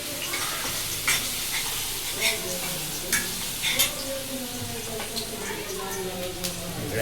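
Onion sizzles steadily in hot oil in a kadhai while being stirred, a loud continuous frying hiss with occasional scrapes and clinks of a utensil against the pan, as people talk nearby.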